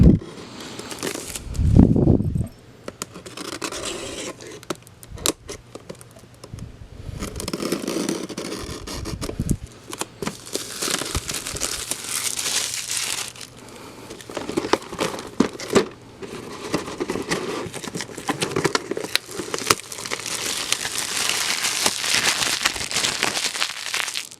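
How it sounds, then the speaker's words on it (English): A hobby knife cuts old High Grade model kits out of crinkly plastic wrapping, with close, soft crinkling, rustling and occasional tearing that run on irregularly throughout, with no talking. "get my hobby knife and cut these things out of their package"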